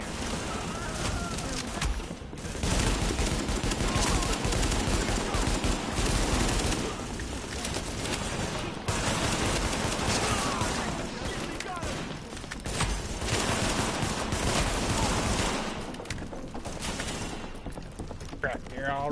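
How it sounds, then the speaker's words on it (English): Gunfire in The Division beta, a not very accurate weapon firing in repeated bursts amid dense game noise, with people talking over it. "This gun is not a very accurate weapon"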